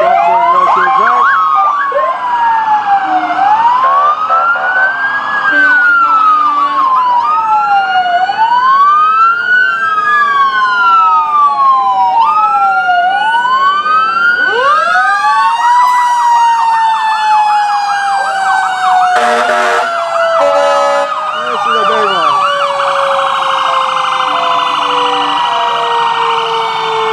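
Loud ambulance and fire truck sirens from a small-town fire and rescue department wail in a Stars & Stripes Day parade, rising and falling in overlapping sweeps with air-horn blasts, close and continuous.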